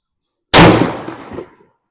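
A single sharp, loud gunshot from a Ruger RXM 9mm pistol firing Hornady XTP 147 grain jacketed hollow points, with a sudden crack followed by a brief decaying echo and no talking.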